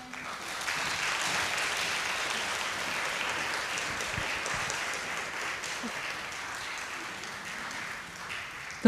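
A concert audience applauds steadily for the full stretch, welcoming a singer and pianist back to the stage at a love-and-peace concert. The dense clapping holds at an even level throughout with no voices over it.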